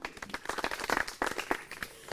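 Audience applause at a rural public discussion event, a spread of scattered hand claps rising and falling unevenly, moderately distant and fairly quiet, with faint voices underneath.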